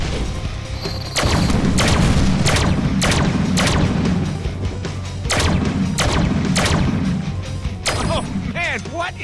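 Heavy gunfire from a big gun in the Deadpool video game: a string of loud, sharp blasts at irregular intervals, with booming low rumble and crashing debris between shots.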